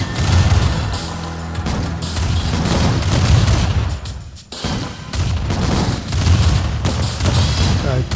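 Rocket soldiers in Command & Conquer Remastered fire on a mammoth tank, making a dense, loud barrage of overlapping blasts and booms that runs almost continuously, with a brief drop in intensity around the middle before the bombardment resumes.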